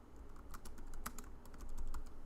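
Rapid close clicking of keys on a computer keyboard, irregular bursts of typing with no voices.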